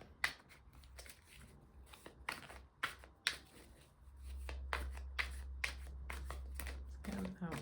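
Tarot cards shuffled and drawn by hand during a collective reading, a run of crisp riffling flicks and snaps in uneven bursts, close and fairly quiet, with a low hum underneath and no speech over them.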